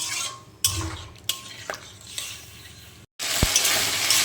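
Spice paste sautéing in oil in a pan for a green banana and hilsa fish curry, a loud close sizzle broken by stirring scrapes and a short silent gap before the frying resumes.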